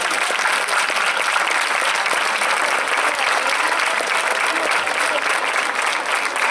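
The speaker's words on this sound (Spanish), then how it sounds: "con ese aplauso aplaudimos" Audience applause at the Santa Eulalia religious festival in Mérida, a thick, continuous crackle of many hands clapping without pause for more than six seconds, loud and close, with no voices rising above it.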